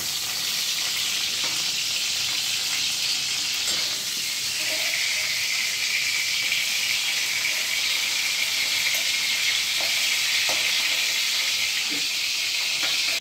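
Pointed gourd (potol) sizzles as it fries in oil in a pan, a steady bright hiss with small crackles and pops, close and continuous, with no talking.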